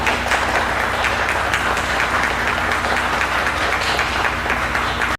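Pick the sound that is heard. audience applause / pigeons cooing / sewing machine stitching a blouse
audience applause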